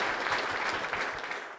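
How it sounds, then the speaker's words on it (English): Audience applause at a live podcast recording, a dense, steady wash of clapping from a room of people that holds for the whole stretch and thins slightly at the end. "Bryce Ritchie, ladies and gents, a round of applause, please."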